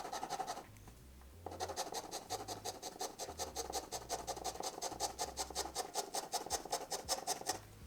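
Steel dip pen nib scratching across paper, a dense rapid rasping of close strokes that pauses briefly near the start, then runs steadily and evenly to the end.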